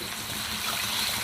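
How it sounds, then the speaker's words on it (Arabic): Chicken or meat broth pouring into a pot with corn kernels, a steady, close liquid rush with no pauses over about a second. "بعد ما حطيت الذرة هبتدي بقى احط الشوربة"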